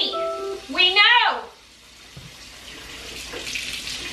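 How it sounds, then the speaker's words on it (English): A kitchen tap runs hot water in a steady, moderately loud stream of splashing, following a short burst of tonal voice-like sound at the start. "I'm gonna get some nice hot water"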